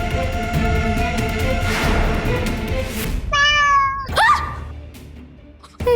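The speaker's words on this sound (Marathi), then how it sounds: "मांजर." A cat meows clearly, two or three drawn-out meows rising out of a noisy indoor scene, with a short sharp sound right after and no talking.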